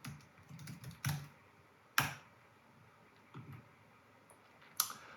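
Keystrokes on a computer keyboard as a class name is typed during a rename in Xcode, a few scattered soft clicks with sharper taps near the start, middle and end, close by in a quiet room.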